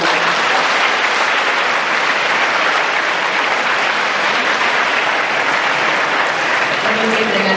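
Sustained, loud applause from an audience at a talk by Basuki (Ahok) in Sanur, BSD, dense and even throughout with a little voice mixed in.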